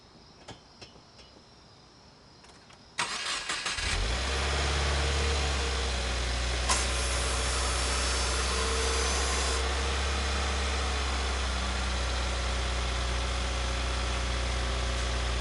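A Subaru WRX engine starts after a few seconds of quiet outdoor ambience, settling into a steady, loud idle with a deep low rumble that holds to the end; a brief click partway through comes from the air conditioner engaging.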